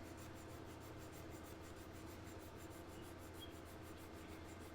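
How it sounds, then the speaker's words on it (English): Sandpaper rubbed back and forth on a scale model body to level a raised hump, a quiet, steady rasping with a regular scraping rhythm. "We'll keep sanding on it till we get it down."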